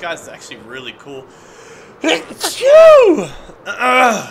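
A single sharp sneeze bursts out mid-conversation during a Minecraft Hardcore play session, loud and close, surrounded by casual talk before and after.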